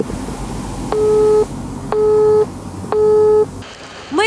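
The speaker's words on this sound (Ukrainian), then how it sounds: "Телефонна лінія увесь час була зайнята." A telephone busy signal on a line: three evenly spaced, loud beeps, each about half a second long, repeating once per second with hissy line noise between them.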